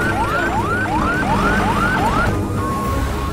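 An ambulance siren wails loudly and continuously in rapid repeating rising sweeps, then holds a steady tone briefly near the end.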